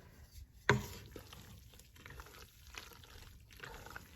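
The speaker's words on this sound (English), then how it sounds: "we're going to add the eggs and the whipping cream into the macaroni" A pot of macaroni being stirred together with eggs and whipping cream over low heat: one sharp clank, then soft, wet squelching strokes at a steady pace, quiet and close.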